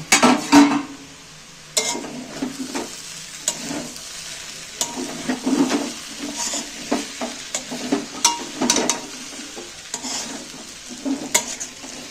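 Sago pearls (sabudana) cooking in ghee in a covered pan are uncovered and stirred, giving a busy run of spatula scrapes and pan clatter over a soft background sizzle.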